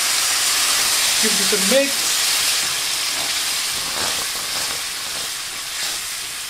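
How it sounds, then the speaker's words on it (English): Stock poured into a hot pan of cooked chilli con carne mince hisses and steams in a steady, close sizzle that slowly eases, with a brief spoken remark near the start. "We're just going to deglaze this using stock."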